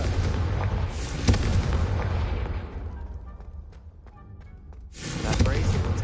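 A Confringo fire spell bursts in Hogwarts Legacy, a loud boom with a sharp crack near the start, then a rumbling wash that fades into quiet before a second roaring blast swells at the end, with a voice speaking over the opening.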